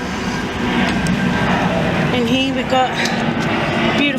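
A plane drones overhead above a churchyard cemetery, its steady engine rumble rising and shifting pitch beneath someone speaking close by.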